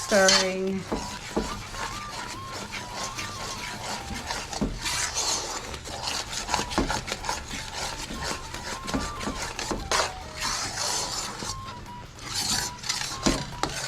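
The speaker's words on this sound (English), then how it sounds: "It's gonna get combined with the flour. And you gotta keep stirring." Liquid and flour are stirred together into dough for home cooking, with steady scraping and rubbing strokes of a utensil against a bowl that repeat continuously up close at moderate volume.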